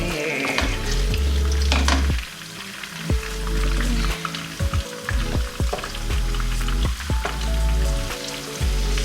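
Salted fish mixture fries loudly in a pan while being stirred, a dense sizzle broken by repeated scraping and clattering strokes of a spoon, with no talk.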